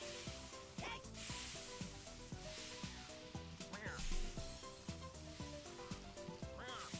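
Steak sizzling in a wok in the Super Mario Party video game, a steady frying hiss running under bouncy game music with recurring jingles and sound effects, no voices.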